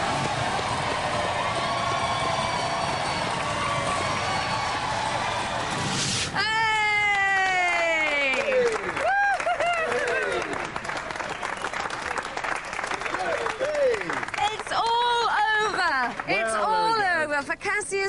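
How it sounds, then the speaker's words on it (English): A studio audience at a televised robot combat competition claps steadily throughout, with dense applause from start to finish under bursts of shouting and whooping, and a loud buzzing whine cutting in partway through. "Ladies and gentlemen, give them a round of applause."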